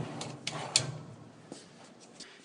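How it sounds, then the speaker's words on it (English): Metal drawer slides on a cabinet drawer pulled out to full extension, giving a few soft sliding rattles and light clicks, quiet and close, with no talking. "simply pull the slides out as far, full extension, completing the process to the other side as well"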